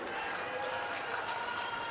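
Sustained, fairly faint applause and crowd noise from a large audience at an election rally in Rewa, welcoming Arvind Kejriwal, a steady wash of clapping with a murmur of voices.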